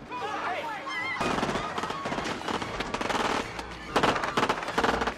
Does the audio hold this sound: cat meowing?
no